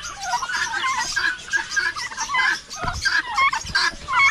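Repeated turkey gobbles ring out in quick bursts over a busy farmyard background of other birds, moderately loud and close.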